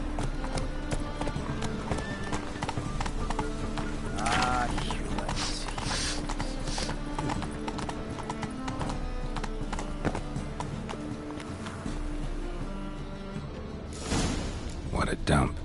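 Roach, a horse in The Witcher 3, gallops with rapid, steady clip-clop hoofbeats close by, joined by a whinny and game music, while voices talk over parts of it.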